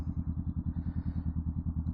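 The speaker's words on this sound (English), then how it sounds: "Listen to that Vance and Hines again. It's freaking loud." A 2022 Honda Rebel 500 ABS with a Vance and Hines exhaust idles close by, a loud, deep, steady rhythmic thumping pulse with no talking.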